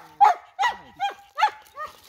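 Hunting dogs bark at a hole during a dig, giving five sharp, evenly spaced barks close by with short gaps between them and no talking.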